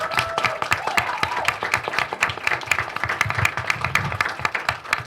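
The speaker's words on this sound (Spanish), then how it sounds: "Un aplauso, por favor." Audience at a university literature colloquium applauding as presenters are called up, a moderate room of individual claps forming a steady, uneven patter.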